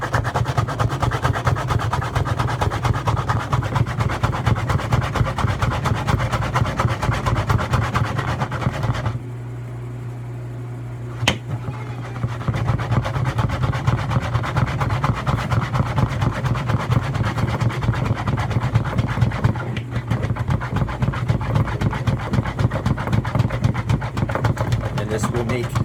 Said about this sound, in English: lock it up, and I'm just going to pump away